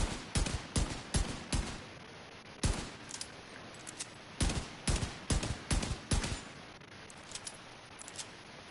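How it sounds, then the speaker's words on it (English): Rifle fire in The Division 2, a series of sharp, loud shots in quick bursts of two to four with short pauses between, ringing out cleanly with no talking over them. "Most of my shots are hitting now."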